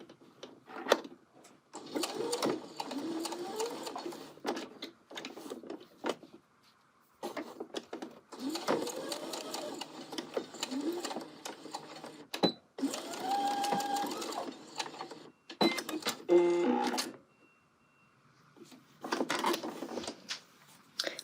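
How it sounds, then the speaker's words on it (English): A sewing machine stitches down a tab on a colorblocked angle coat in bursts of rapid whirring, with pauses between runs as the fabric is lifted and pivoted, and a voice talks during the gaps. "Lift, pivot, and just sew this last tab down."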